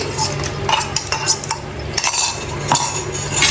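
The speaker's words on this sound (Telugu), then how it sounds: "పెరుగు వేసినా కానీ బాగా కలపాలి." A spoon stirs yogurt into green chicken biryani in a pot at home, with repeated scraping and metallic clinks against the pot's sides in an uneven rhythm, close and fairly loud.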